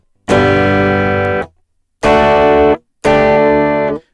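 Electric guitar played through a BOSS ME-80 multi-effects pedal with single-coil-to-humbucker simulation and chorus, three bright sustained chords, the first held long and two shorter ones, with clean gaps of silence between.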